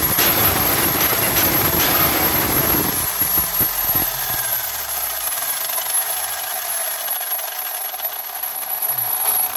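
Throttle blips from an Arrma Limitless dual-motor RC car produce a loud, continuous high electric motor whine with rough clattering that eases after the first few seconds into a steadier whir.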